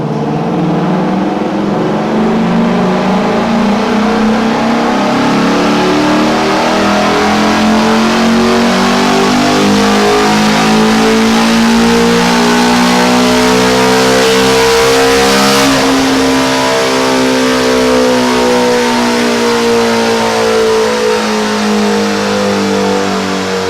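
A 2017 Ford Mustang GT350 revs hard on a dyno for a sustained loud run, its engine note climbing steadily, peaking, then easing back down. It has a cold air intake and a custom tune, and nobody talks over it.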